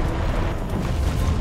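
A rumbling explosion in Zelda: Breath of the Wild, a loud sustained low boom that churns without a clear sharp onset.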